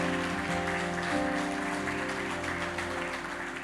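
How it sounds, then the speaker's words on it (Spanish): A church congregation at a Sunday service applauds loudly and continuously, a broad wash of clapping under sustained music tones with little speech. "Dale un fuerte aplauso a nuestro Señor."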